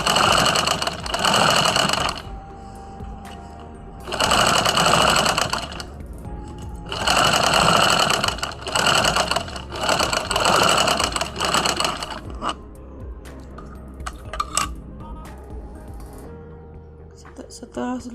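Sewing machine stitching the front and back darts of a garment, loud steady whirring runs separated by short pauses, followed by quieter clicks and handling noises near the end.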